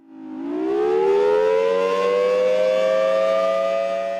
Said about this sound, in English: We don't run the siren on a regular basis.